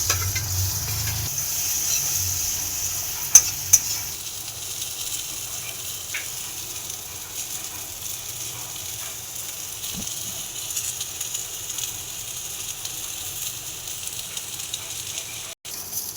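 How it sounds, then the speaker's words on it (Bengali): Soya chunks fry in a pan of hot oil, giving a soft, steady sizzle at low level with a couple of brief clinks from utensils. "এই তেলের মধ্যে দিয়ে ভেজে নেব।"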